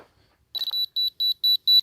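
A laser level receiver used to set footing depth at a dig for a slab sounds a short chirp, then four clear, evenly spaced high beeps.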